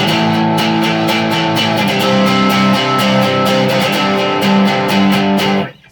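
A clean electric guitar from a modified Squier Stratocaster, played with no pedals through an Orange Tiny Terror into a Marshall cabinet, strumming sustained chords with steady rhythmic picking, loud and close, then cutting off abruptly at the end.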